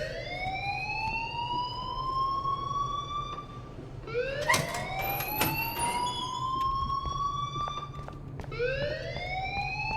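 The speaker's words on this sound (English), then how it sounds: "please turn off that alarm since that's your job" An alarm wails in the video game Life Is Strange, rising siren-like sweeps that repeat in three waves, fairly quiet and with no talk over it.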